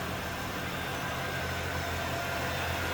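A 1994 Cadillac Fleetwood sedan with a 5.7 liter LT1 V8 idles with the hood open, a steady, even low rumble under a broad hiss, continuous and close, with no talk.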